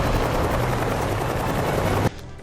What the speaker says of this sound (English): he boards a medical chopper, engaging Tuco's men in a vicious aerial dogfight